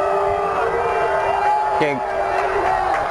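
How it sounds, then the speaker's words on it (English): A football crowd at a Notre Dame Academy versus Sheboygan South game keeps up a loud, steady roar, with a brief whoop or horn rising through it and a short spoken word over the top. "this crowd noise, and the crowd is really starting to get into it now, getting louder and louder as I speak"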